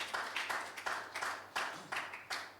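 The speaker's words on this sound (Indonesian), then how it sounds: "Berikan tepuk tangan bagi Tuhan Yesus Kristus" A congregation claps for Jesus Christ during a live Sunday worship service at a church in Pamulang, heard as a sparse, uneven run of about seven bursts of hand claps at moderate volume, with no speech over them.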